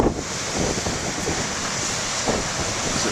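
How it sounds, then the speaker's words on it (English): Waves break on the main lighthouse beach at BTL as a continuous surf wash, while wind blows across the camcorder microphone and adds a low rumbling buffet throughout. "not have the wind blowing the mic from the camcorder"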